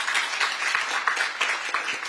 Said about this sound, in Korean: 바쁜 와중에 와주셨으니까 박수 한번 쳐주시죠.